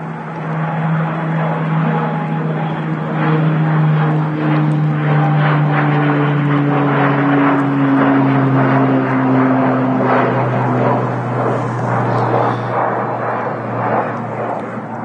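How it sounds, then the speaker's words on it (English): A Metroliner propeller aircraft takes off at Manchester Airport, a loud sustained engine drone with a rising whining pitch that slowly shifts, filling the whole stretch without speech. "the Metroliner just took off as well"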